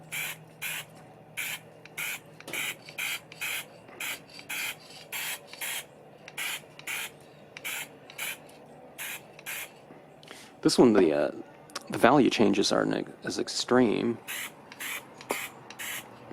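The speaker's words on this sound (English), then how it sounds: "but let's spray it like this" An acrylic spray can hisses in a steady run of short rhythmic bursts, then a person talks over the last few sprays.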